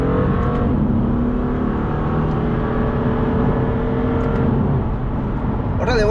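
A BMW F82 M4 with its exhaust valves open gives a loud, steady engine drone with a deep rumble, as heard from inside the cabin while cruising, ending with a brief higher burst.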